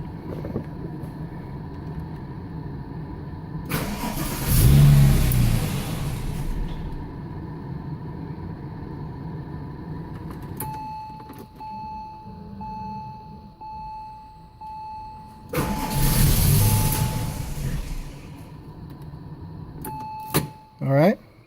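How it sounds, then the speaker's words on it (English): A Porsche 911 Turbo (996) engine cranks over twice in separate bursts of loud churning rumble, with quiet stretches and a few short beeps between them. "Now we're going to turn the engine over a couple of times just to get rid of the residual fuel"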